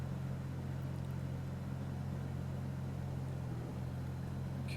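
A small piston aircraft engine in the X-Plane 11 flight simulator drones steadily and quietly throughout, a constant low hum with no break or rise.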